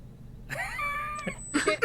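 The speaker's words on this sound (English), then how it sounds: "Was that cat?" A house cat lets out a drawn-out, wavering meow, close but modest in level, followed by a couple of shorter chirping calls over faint room noise.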